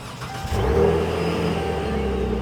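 A supercharged V6 car engine with a Borla Attack aftermarket exhaust starts and settles into a loud, deep, throaty idle with a rumbling exhaust note, steady and close.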